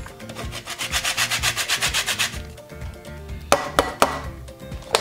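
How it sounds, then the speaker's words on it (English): An orange is rubbed quickly against a grater, about a dozen rhythmic rasping strokes close to the listener, followed by a few sharp taps. "then we add 1 zest of an orange"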